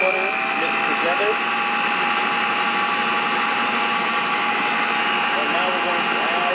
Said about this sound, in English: Now we're going to get our salted and unsalted butter mixed together.